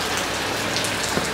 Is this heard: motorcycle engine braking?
no